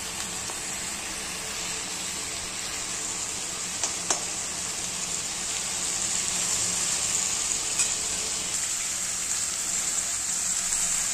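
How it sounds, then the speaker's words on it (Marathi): Onion frying in a pan until browned, a steady close sizzle with a few faint stirring clicks, gently growing louder over time. "आता हे बघा असं ब्राऊन कलर होईपर्यंत भाजून द्यायचा आहे कांदा"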